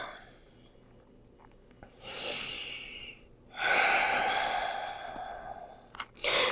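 Deep, audible breaths during a slow stretching session: two long airy exhales with a pause between, close and moderately quiet, followed by a brief sharp inhale near the end.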